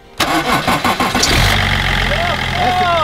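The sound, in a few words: car engine starting after tapping on fuel pump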